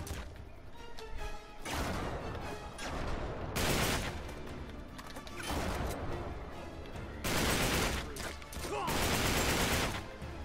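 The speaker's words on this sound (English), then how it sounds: "Oh, good shooting, Elena." Bursts of rapid gunfire in an Uncharted 3 firefight, loud, dense volleys arriving in several waves separated by brief lulls, with crashing impacts mixed in.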